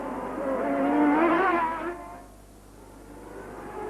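A CART race car driven hard at Surfers Paradise screams past up close, its engine note climbing and bending through gear changes before fading into distant, lower engine noise.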